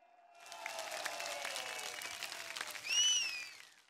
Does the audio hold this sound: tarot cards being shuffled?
no